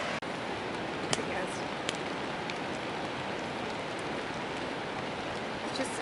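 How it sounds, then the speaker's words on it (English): Steady rain falling at a backwoods campsite near Nanaimo, British Columbia, a dense continuous hiss of drops on surfaces with a few louder pattering hits, close and even throughout. "it's getting a little too rainy"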